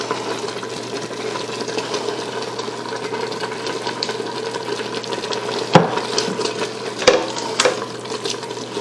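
Crumbled Italian sausage dropped into a simmering pot of keto Zuppa Toscana with kale: a continuous bubbling, sizzling bed of sound punctuated by a couple of distinct close knocks and splashes as pieces land, no speech.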